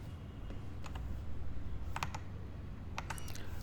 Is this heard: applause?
no